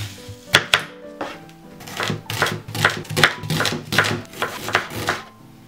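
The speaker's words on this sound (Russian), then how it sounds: "Одну головку репчатого лука нарезаем кубиками." An onion is being diced into cubes on a cutting board, a steady series of sharp knife chops landing in quick irregular bursts, fairly close and clear, with no talk over them.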